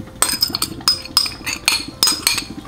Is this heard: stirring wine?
yes